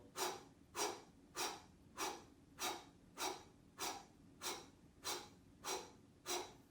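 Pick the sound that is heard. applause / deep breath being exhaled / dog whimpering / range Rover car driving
deep breath being exhaled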